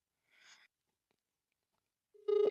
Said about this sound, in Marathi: दादाला फोन लावते.